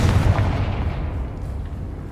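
A Confringo blasting spell explodes in Hogwarts Legacy as a loud, deep rumbling boom that fades slowly over about two seconds.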